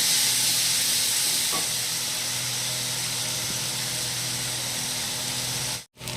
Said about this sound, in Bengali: এবার এই মিশ্রণটা আমি আদা পেঁয়াজ যে মশলা কষেছিলাম তার মধ্যে দিয়ে দিলাম দিয়ে আবার ভালো করে আমি কষতে থাকবো